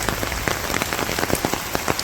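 Rain falls steadily in a village during a storm, dense pattering drops striking surfaces close by, a continuous busy patter with sharper individual hits, no voices.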